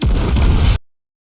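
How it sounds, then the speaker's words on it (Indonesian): A rocket strike blows up a combat vehicle in a film: one loud, booming blast with a rushing burst that cuts off abruptly after under a second. "Tiba-tiba saja serangan roket meledakkan mobil tempur"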